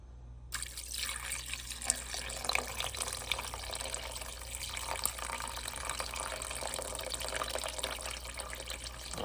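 Tap water running into a cooking pot for smoked turkey tails, a continuous splashing stream that starts abruptly and keeps a steady rushing hiss, close by, with a low hum underneath and no speech.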